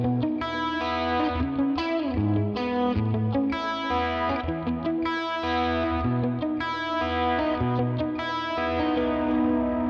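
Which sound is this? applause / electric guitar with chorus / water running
electric guitar with chorus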